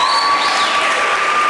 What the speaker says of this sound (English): May we give ourselves a round of applause.